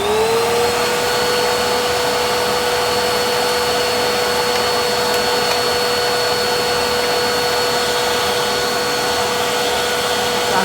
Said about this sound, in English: start the vacuum